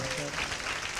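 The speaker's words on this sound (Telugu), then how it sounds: "చప్పట్లు కొట్టి దేవుని కనపరుస్తారా?" Church congregation clapping hands during a sermon, a dense, steady wash of applause filling the short moment, fairly quiet and even.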